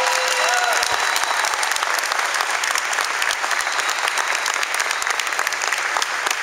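Audience applause fills an evening tribute event honoring a congressman and ambassador, steady dense clapping from a large crowd throughout, loud and sustained without talk.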